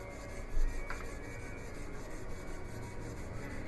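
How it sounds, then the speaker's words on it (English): Carbide paper rubs over a steel Bowie knife blade during finish grinding, making a steady rasping scrape with short, even strokes at close range. "I'm going to start with even pressure and short strokes, and I'm going to just sand that area out."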